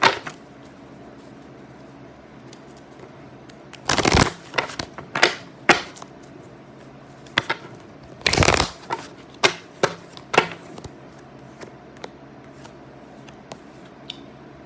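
Angel oracle cards shuffled and riffled by hand in several short bursts, with soft snaps and slaps at close range in an otherwise quiet room.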